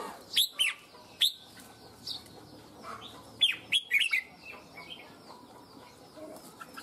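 A red-whiskered bulbul sings bright, whistled phrases in short bursts with pauses between, clear and fairly close over a faint background hum.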